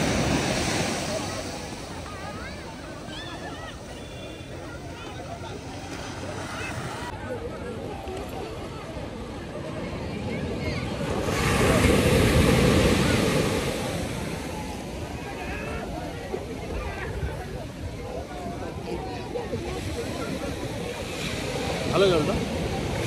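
Surf rolls steadily onto Puri beach, a continuous wash of breaking ocean waves with wind buffeting the microphone, swelling louder around the middle before settling back into a steady roar.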